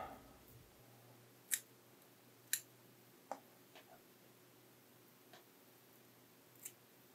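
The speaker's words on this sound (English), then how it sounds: "I'm going to clean that up with the scissors." Scissors trimming fly tying thread at a tying bench, a few sharp, quiet snips spaced about a second apart over a low, steady background hiss.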